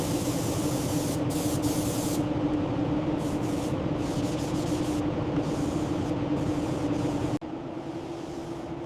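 Spray gun laying down a first pass of orange base coat on a Porsche 992 GT3 RS in a paint booth, a steady continuous hiss that holds without a break, then drops to a quieter booth hum near the end.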